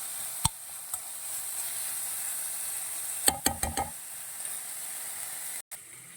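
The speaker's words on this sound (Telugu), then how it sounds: "ఇంట్లో కొంచెం సాల్ట్, కారము, పసుపు వేసుకొని కొంచెం ఫ్రై చేసుకోవాలండి" Capsicum frying in a pan with salt, chilli powder and turmeric, a faint steady sizzle broken by a quick cluster of sharp clicks and taps partway through, with no voices.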